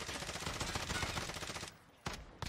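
A team in Warzone unloads in a dense, continuous barrage of automatic gunfire that roars for most of the stretch, then drops out, leaving two short, sharp final bursts, fairly quiet overall and with no voices.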